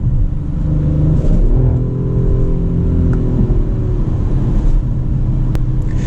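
Turbocharged 2021 Audi RS5 Sportback accelerating from inside the cabin, a steady loud engine rumble and whir rising in pitch through one long pull, with no talk.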